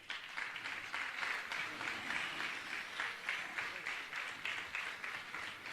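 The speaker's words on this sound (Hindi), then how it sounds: "आप इन सम्मानकर्ता के सम्मान में तालियां बजाइएगा।" Audience at a Jain religious gathering applauding in a steady, dense wash of clapping from a sizable crowd, held at an even level throughout.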